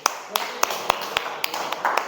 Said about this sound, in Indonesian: Oke, tepuk tangan untuk Jeffrey.